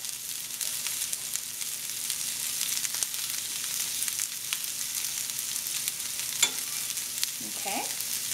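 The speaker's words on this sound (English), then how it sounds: "Now I'm going to add a little bit of more earth balance butter for the simple sake of making sure those onions don't have an odor and that they get caramelized." Onions sizzle and fry in vegan butter in a pan while being stirred, a steady close crackling hiss with occasional utensil scrapes.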